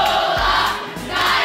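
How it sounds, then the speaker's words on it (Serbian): Fans of the yellow team cheering their contestants at a televised competition, a short burst of dense crowd noise with shouts rising and dipping, fairly distant and without talk over it. "I čujte kako žuti navijaju i podržavaju svoje takmičare"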